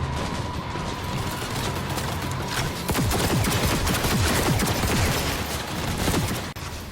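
Sustained automatic gunfire in Cyberpunk, shooting at pursuers during a chase, a dense rapid fusillade of close, loud shots that thickens midway and runs almost unbroken.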